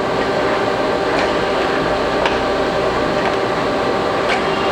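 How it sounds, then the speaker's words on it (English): Carriage of a large Geminis gap bed engine lathe runs in rapid traverse, a loud, steady mechanical whir and hum with faint periodic clicks, no voices over it. "It's rapid traverse of the carriage."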